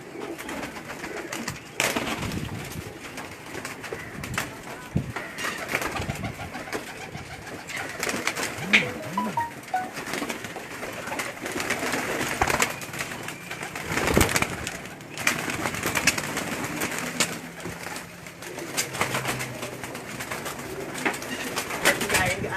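Pigeons coo softly amid a busy, noisy outdoor background in Karachi, with flapping and rustling sounds scattered throughout.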